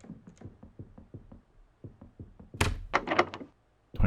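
A locked apartment door in the horror game Look Outside is tried repeatedly, giving a run of soft rattling thunks followed by a louder burst of jostling clatter and then a final knock, with no speech.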